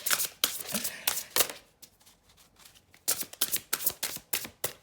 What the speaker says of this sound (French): que tu me regardes mélanger des cartes jusqu'à ce qu'il y en ait une qui saute